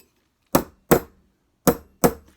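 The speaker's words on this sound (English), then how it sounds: "Can you see that I am hammering it at a slight angle, not completely straight?" A steel hammer strikes soft metal on a steel bench block during forging, landing four sharp, ringing blows in two evenly spaced pairs, close and loud against an otherwise silent background.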